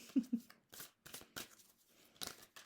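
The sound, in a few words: shuffling tarot cards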